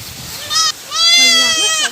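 A goat in a Maithili comedy skit bleats loudly and close by in two wavering cries, a short one and then a longer, quavering one.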